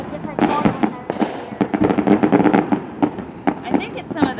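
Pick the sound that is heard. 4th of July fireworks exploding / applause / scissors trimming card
4th of July fireworks exploding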